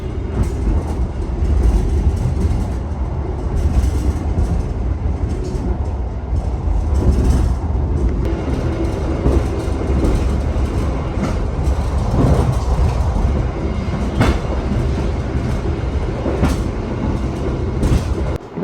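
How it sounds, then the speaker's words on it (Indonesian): Steady rumble and rattle inside the moving Gajayana passenger train from Gambir to Malang, Indonesia, with low wheel noise and occasional faint clicks and creaks, continuous throughout. "Ini sekarang aku udah ada di dalam kereta api Gajayana yang memiliki rute Gambir menuju ke Malang."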